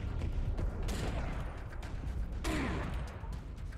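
Gunfire erupts in the shooter video game Serious Sam 4, sharp bursts and cracks over a dense rumbling battle din, with louder blasts near the one-second and two-and-a-half-second marks.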